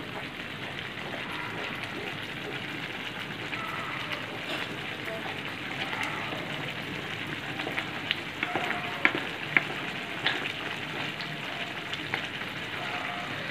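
Coconut gravy for scrambled eggs bubbles and sizzles in a kadhai as it is stirred continuously, a dense even frying hiss with occasional faint clicks of a spoon against the pan.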